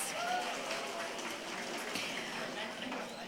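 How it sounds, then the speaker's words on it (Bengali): An audience claps at a university convocation ceremony, steady moderate applause throughout that is somewhat distant and diffuse in a large hall. "জোরে করতালি প্লিজ"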